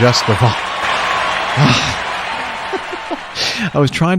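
Canned applause sound effect played on a podcast: a steady wash of clapping runs under the whole stretch while voices talk and chuckle over it.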